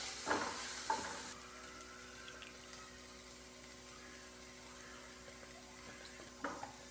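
Onion masala sautés in a pan with garam masala, turmeric and chilli powder, giving a faint, steady sizzle with a few spoon knocks against the pan near the start and end.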